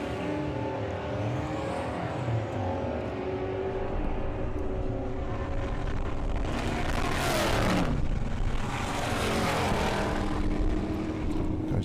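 A hot rod drag car at Santa Pod Raceway, built to an 89-year-old car design, with a steady loud engine roar and a louder surge as it passes or launches, mixed with broad track ambience and no talk.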